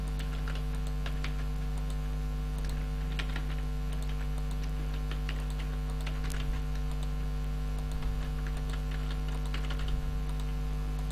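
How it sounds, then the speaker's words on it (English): Computer keyboard typing while entering search text into a Java program, with quick, irregular key clicks running throughout over a steady low electrical hum. "I start typing A, you can see very well my stuff is getting filtered."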